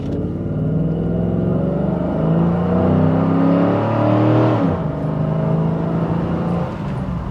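A Cadillac Allanté pulls away from a standstill under hard acceleration, its engine note climbing steadily through the gears with a brief shift dip, loud and close from inside the cabin, no talking.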